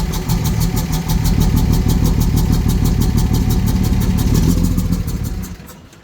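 A dually truck engine runs rough, a loud close throbbing idle with an uneven pulsing beat that holds steady and then dies away as the engine shuts off.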